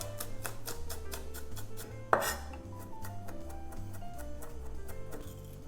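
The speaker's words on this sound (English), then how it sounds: "Then finally mince your garlic." Garlic cloves minced with a knife on a board, quick rhythmic tapping chops at a steady pace with one sharper knock partway through, quiet and close over soft background music.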